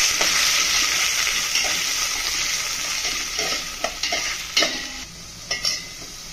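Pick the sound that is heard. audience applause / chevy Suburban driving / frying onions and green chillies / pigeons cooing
frying onions and green chillies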